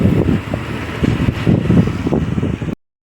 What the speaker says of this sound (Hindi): देखो कितनी ठंडी हवा चल रही है बिल्कुल